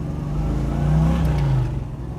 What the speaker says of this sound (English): Once again, great throttle response.